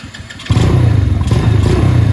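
A carbureted Venom motorcycle engine on choke idles at high revs, starting with a lighter patter before settling into a loud, close, steady throbbing drone.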